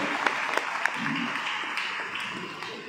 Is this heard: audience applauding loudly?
yes